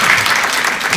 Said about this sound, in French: Benjamin applaudit.